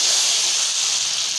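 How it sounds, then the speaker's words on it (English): Hot tadka tempering poured over cooked dal for a tomato dal, giving a steady, loud, bright sizzling hiss that runs unbroken for a second and a half with no talking. "It's ready to give a tadka on the dal."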